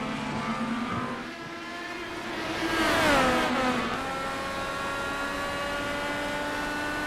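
Race cars at Barber in the iRacing sim roar past one after another, engines whining with rising and falling pitch as one close car sweeps by, loud and continuous.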